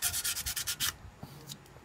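Sandpaper rubs on a Honda Click 125 part in about eight quick rhythmic back-and-forth strokes, close and fairly loud, then fainter scattered scrapes.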